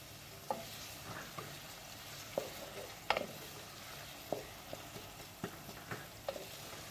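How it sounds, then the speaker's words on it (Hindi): Beef qeema being sautéed and stirred in a pan, with a steady low frying sizzle and scattered scraping clicks of a spoon against the metal, close and fairly quiet, with no one talking. "इसको हम अच्छी तरह से जो है वो सौटे करेंगे।"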